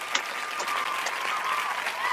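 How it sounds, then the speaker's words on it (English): Audience applause on a live online show, steady dense clapping throughout with a faint tone running underneath, moderately loud and close. "I want to give her a round of applause."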